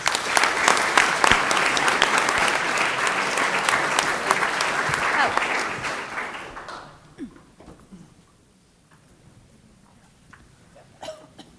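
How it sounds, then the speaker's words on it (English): Audience applause at a school board business meeting, loud sustained clapping for about six seconds that fades out, followed by scattered coughs and quiet room noise. "Let's give them a round of applause."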